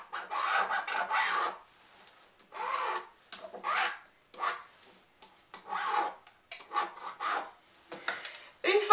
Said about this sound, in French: Donc, je m'aligne, 10 cm, et je trace une ligne.